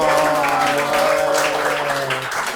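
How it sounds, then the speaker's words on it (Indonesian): Applause from a studio audience at an Indonesian talk show taping, a dense, steady wash of clapping held for a few seconds over faint sustained tones. "Tepuk tangan dong"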